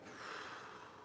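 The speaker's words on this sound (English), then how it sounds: "breathe in deeply through my nose" A deep, steady inhale drawn in through the nose, a soft airy breath sound lasting about a second, close to the microphone with no talking.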